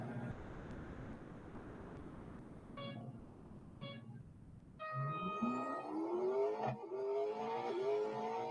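In the Real Racing 3 video game, a Koenigsegg Gemera lines up for an autocross event. Three countdown beeps come first, then the engine revs up with a rising, climbing whine as the car accelerates away.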